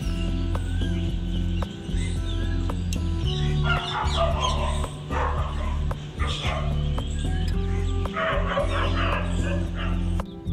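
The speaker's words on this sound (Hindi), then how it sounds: "यहाँ पे आप ना चिड़ियाओं की आवाज़, नेचुरल साउंड सुन सकते हैं" A rooster crows and birds call outdoors over a steady low background hum, with a dog barking at moments.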